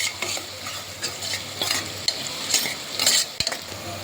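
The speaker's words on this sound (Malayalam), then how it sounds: "നമുക്കിനി ഇതിലേക്ക് തക്കാളി ചേർത്ത് കൊടുക്കാം. ഇതും നല്ലോണം വഴറ്റിയെടുക്കാം." Onion and tomato sizzle in a hot pan while a spoon stirs and scrapes through them, with close, irregular clinks and a steady frying hiss underneath.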